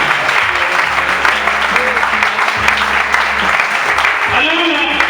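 A church congregation claps together in a dense, steady burst of applause that fills the space throughout, with voices calling out over it.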